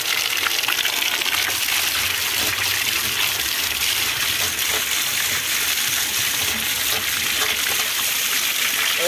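Water gushes and splashes straight onto a person's face in a steady, loud, close rush of spray that continues without a break.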